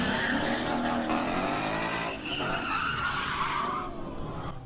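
A Ford Mustang skids with loud, sustained tire squeal and engine noise, the screech sliding and fading toward the end.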